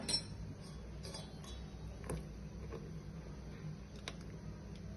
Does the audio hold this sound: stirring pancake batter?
yes